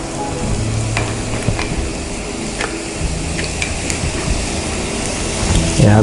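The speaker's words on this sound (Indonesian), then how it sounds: "ya harus ada terdengar bunyi seperti itu, menandakan bahwa pan-nya atau grill pan-nya udah panas" Steak sizzling on a hot grill pan with coconut oil, a loud continuous crackling fry with scattered pops and spatters throughout.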